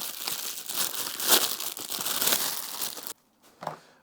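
Loud crinkling and tearing of packaging as air fryer accessory trays are unwrapped, a steady rustling burst that breaks off into near silence before a final crinkle.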